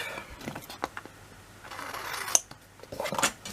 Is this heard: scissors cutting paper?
yes